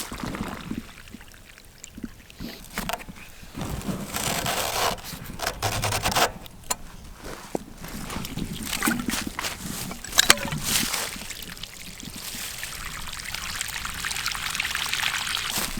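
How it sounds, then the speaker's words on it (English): Water drains and pours from undone hoses off a ranch pump in cold weather, a steady trickling splash with scraping handling noises, close by and alone. "let all the water drain out."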